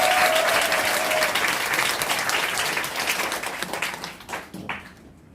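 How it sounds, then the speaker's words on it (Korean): An audience at a business seminar gives loud, dense applause that starts at full strength and gradually thins out and fades over a few seconds, with a few scattered claps at the end. "우리 모두에게 큰 박수 부탁드릴게요."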